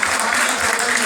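A gathering honours a local MLA at a ceremony for students who placed on a board exam merit list with a brief burst of loud, dense crowd applause.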